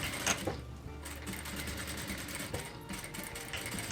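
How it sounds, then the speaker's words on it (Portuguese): A sewing machine stitches bias binding in a steady, close mechanical whir that runs without a break, faint and even. "Aí eu volto a costurar a partir daqui."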